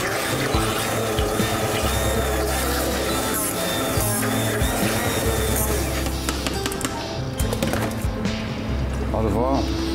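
A food processor whirs steadily as it blends flour, salt, squid ink and egg yolk into pasta dough, a dense continuous motor roar with a voice talking over it.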